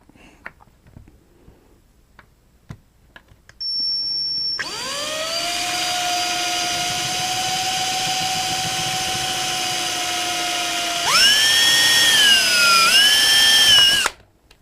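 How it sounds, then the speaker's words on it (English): A power drill with a 1/4-inch bit whines steadily for several seconds while drilling into a cap, then its pitch shifts higher and strains before cutting off abruptly; loud and close, with no talking. "now you're going to drill right in to the cap."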